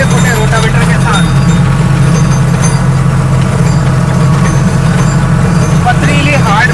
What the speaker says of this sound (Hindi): पथरीली हार्ड मिट्टी है बेंगलोर की, जिसको ये 45 HP का ट्रैक्टर बिना दबे चला रहा है।